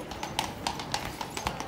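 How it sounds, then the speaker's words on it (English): Dressed-up horses walk along a city street, their hooves clip-clopping in a steady rhythm over constant street noise. "We've got a nice horse coming through here."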